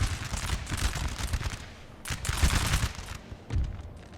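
Dense, crackling musket volleys and booming cannon fire from a Napoleon: Total War battle roll on continuously at mid distance, swelling in bursts with no speech heard.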